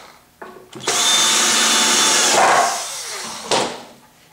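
A power drill drives screws into a wooden block of a harp kit, giving one loud, steady whir of nearly two seconds up close, then a quieter trailing spin and a short final burst.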